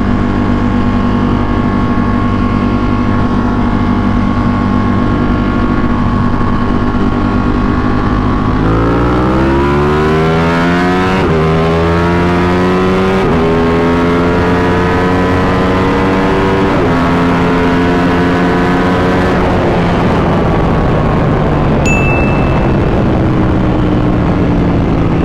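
Suzuki GSXR-1000 and Ducati sport motorcycles accelerating hard side by side in a race, engines climbing steadily in pitch through repeated gear shifts, loud and close throughout with no talk.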